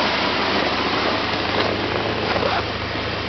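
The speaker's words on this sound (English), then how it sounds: "See how the engine sounds." A 1989 GMC S15 Jimmy engine idles after a cold start at -20°C, a steady low, even rumble and constant broadband roar, close by, with no voices.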